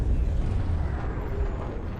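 Shard cannons on a Python Mk 2 starship fire in a space combat game during a bombing run on a Titan, a loud continuous rumbling barrage of dense bursts lasting throughout, with no talking.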